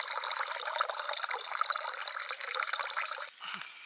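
Burn water drawn from a stream on the Arran coast pours and splashes continuously at close range into a container, a bright steady trickle that stops abruptly near the end.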